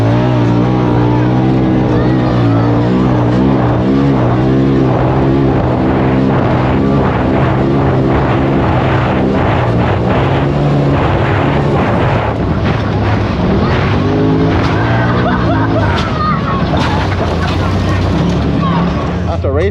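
A side-by-side UTV driven without a windshield, with loud, steady engine drone and heavy rushing wind buffeting the microphone throughout, and a voice talking over it.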